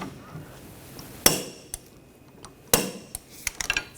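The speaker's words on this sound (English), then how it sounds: "Now this lower control arm, we're going to torque this to 111 foot-pounds." A torque wrench tightens the lower control arm bolt on a 2014-2020 Nissan Rogue rear suspension to 111 foot-pounds, giving two sharp metallic clicks followed by a quick cluster of lighter taps in a quiet workshop.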